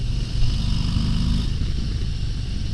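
Engine of a 2022 Harley-Davidson Low Rider ST motorcycle while riding: a brief, steady, deep rumble, fairly close and continuous.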